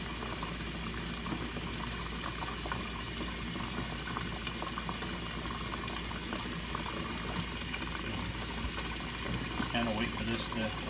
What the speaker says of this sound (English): turn the water back on and fill it up again, just like a regular washing machine